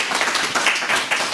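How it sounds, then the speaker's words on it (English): Conference audience claps for a speaker, a brief burst of mixed hand claps at moderate loudness with no voices over it. "Can I have an applause for İpek Rapas from Turkey?"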